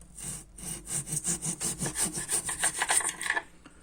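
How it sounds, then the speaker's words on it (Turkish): Rhythmic back-and-forth strokes of a hacksaw making a miter cut through thin wooden wall trim, about a dozen even rasping passes, close and alone. "Ben demir testeresini kullanacağım."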